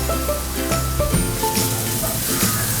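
Chopped vegetables hit hot desi ghee in a pan and set off a steady, close sizzle that runs for the whole few seconds, with faint tonal hum behind it.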